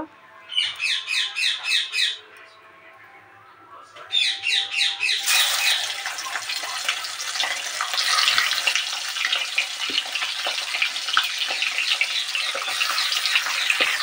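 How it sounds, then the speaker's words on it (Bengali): Bhetki fish bones dropped one by one into hot oil in a kadai set off a loud, continuous sizzle and crackle, preceded by brief bursts of high squeaky sound. "তেলটা গরম হয়ে গিয়েছে, একে একে আমি এগুলোকে ছেড়ে দেব।"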